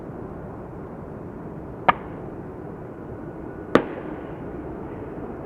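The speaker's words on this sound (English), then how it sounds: "We do hear some fireworks being set off further in the distance." Two sharp cracks from bird control fireworks at Schiphol Airport snap out about two seconds apart over a steady background rumble, sounding moderately distant and with no talking.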